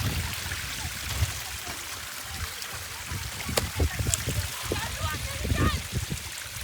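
A hill-station stream flowing near the microphone, a constant watery rush with small splashes underneath a person talking.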